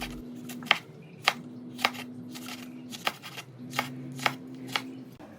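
A knife chops red chili peppers on a board in a home kitchen, giving about nine sharp, evenly spaced strikes heard close and clear over a faint steady hum.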